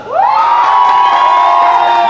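A crowd of about 200 people shouts and cheers in one loud, sustained burst, a close, dense roar.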